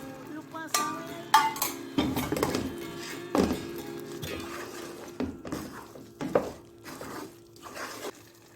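Fried brinjal goes into a pan and is stirred with a utensil, giving close scraping, clinking and soft thuds at an irregular pace over a low kitchen hum.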